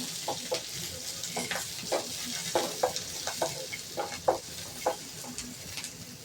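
Five finely chopped small onions and curry leaves fry in a rasam tempering, with a soft, constant sizzle broken by repeated scraping strokes of a spoon against the pan and no talk.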